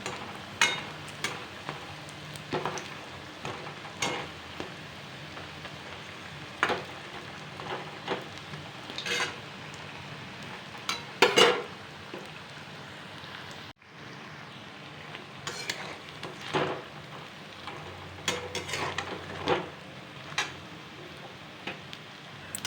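Fried masoor dal fritters are lifted out of hot oil into a bowl, with a continuous faint crackling sizzle broken by scattered clicks and scrapes of a utensil, close by.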